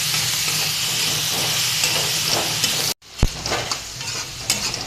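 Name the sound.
stirring cabbage vegetable curry in a pan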